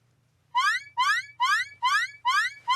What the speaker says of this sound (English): You set off the alarm.